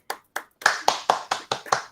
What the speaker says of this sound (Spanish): Un aplauso enorme. Pedazo de artistas.